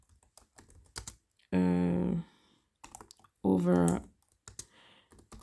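Keys clatter in quick bursts as code is typed on a computer keyboard, close and crisp, broken up by two short stretches of a man's speech.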